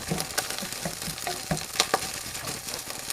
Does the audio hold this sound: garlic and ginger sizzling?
yes